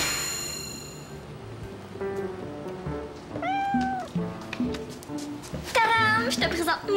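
A cat meows a couple of times in a children's show, the calls rising and falling over clanging and dinging effects while a voice speaks nearby.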